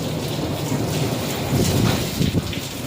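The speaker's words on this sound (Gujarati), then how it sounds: "વીજળીના કડાકા ભડાકા થાય છે કેટલી વીજળી થાય છે જોરદાર વીજળી થાય છે" Steady heavy unseasonal summer rain falls on a village during a lightning storm, with low rumbling swells of thunder building in the middle and toward the end; no voices.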